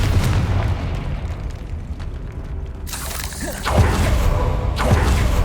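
Fiery Confringo blasting spell in the Hogwarts Legacy game, a loud rumbling boom bursting in partway through over a dense background of game ambience, with a second burst near the end.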